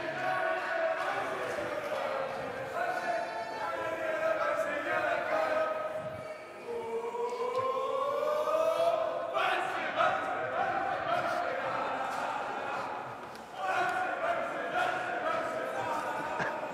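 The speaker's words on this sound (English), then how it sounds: "The Scottish crowd doing the bouncy in the stands" A Scottish crowd in the stands at a World Junior Curling Championships semi-final against Switzerland chants and cheers in rising, wavering unison, a loud, sustained roar swelling and dipping across the stretch.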